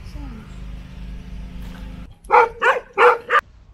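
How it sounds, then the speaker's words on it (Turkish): Village dogs barking close by: four sharp, loud barks in quick succession follow a low droning rumble that cuts off abruptly. "gezi boyunca bizi havlayarak rahatsız ettiler"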